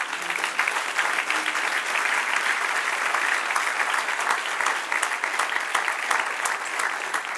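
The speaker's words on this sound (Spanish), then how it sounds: "Y un aplauso al Señor." A church congregation applauding together during a Spanish-language sermon: dense, steady clapping from a crowd that holds at an even level throughout, with no voices over it.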